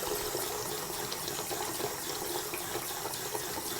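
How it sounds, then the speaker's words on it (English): Tap water runs into a bathroom sink with the stopper held closed, a steady close gush and splash that keeps filling the basin without pause. "I'm going to hold my finger on the stopper so the sink fills"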